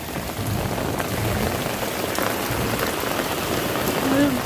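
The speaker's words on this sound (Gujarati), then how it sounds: "વરસાદ જબર આવો" Steady heavy rain pours down throughout, a dense continuous hiss of drops hitting surfaces, with a faint voice briefly audible near the end.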